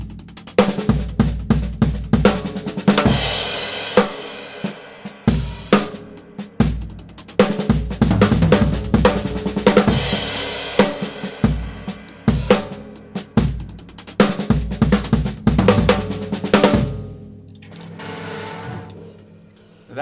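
A drum kit plays a dense, rapid fill built on a paradiddle-diddle sticking pattern with an extra para, full and close. Sharp strokes repeat in quick bursts for about seventeen seconds, then trail off into a softer decaying ring.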